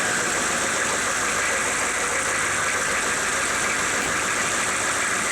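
A diesel engine with 322,000 miles on it idles loudly and steadily right after a cold start, a continuous close rumble with a knocking clatter throughout and no voices.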